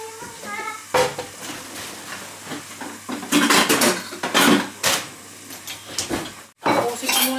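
Food being fried in a pan in a home kitchen, with clanking of the pan and utensils, stirring scrapes and clinks in irregular bursts, close by, over faint background sizzle.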